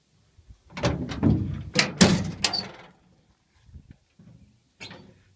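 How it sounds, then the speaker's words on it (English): Sliding rear window on a 1969 Ford F-250 camper special, several rough scraping slides and knocks close by, then a few small clicks and a last brief rattle. "Sliding rear window."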